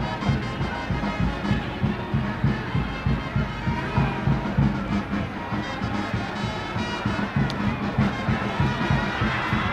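Spectators fill the stands at a Zimbabwean football match between Dynamos FC and Yadah, making a steady, distant murmur with rhythmic clapping or chanting pulses, under no clear talk.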